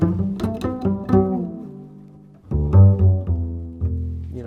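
Double bass plucked alone, close and full, with a quick run of notes, a pause, then several deeper sustained notes.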